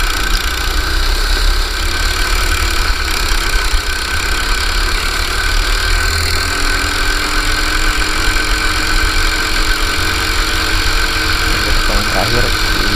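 Go-kart engine on a race track at Gogo Karting Karawang revving steadily as the driver gets back on the throttle out of a corner, a continuous loud droning hum with a voice faintly present underneath.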